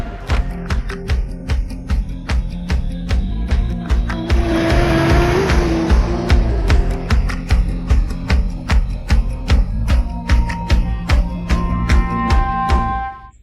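A car driving fast with tires squealing, loud rapid sharp clicks and squeals over a steady engine roar, close and continuous with no talking.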